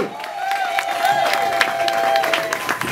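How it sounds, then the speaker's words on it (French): An audience claps and cheers at the launch of Etoile FM, a new radio station in Kikwit, producing dense, sustained applause close by while a voice speaks over it. "Applaudissez pour Arcelino."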